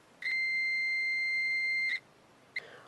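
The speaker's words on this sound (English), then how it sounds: "I have this meter set to the continuity setting," A multimeter set to continuity gives one clear, steady high beep lasting nearly two seconds, then a brief second chirp. The surroundings are otherwise quiet.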